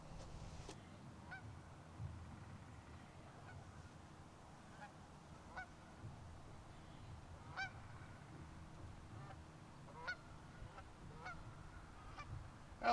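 Distant geese honk now and then in sparse, faint calls over a low steady outdoor rumble.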